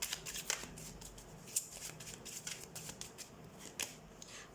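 Tarot cards shuffled during a weekly reading, a soft papery riffling and flicking that comes in quick repeated bursts. It stays faint and close, with no talk over it.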